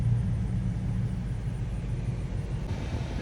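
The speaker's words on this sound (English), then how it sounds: "Loud truck going around us." A loud truck rolls past close by near a cabin, a heavy, steady low rumble that fills the whole stretch with no break, with no talking over it.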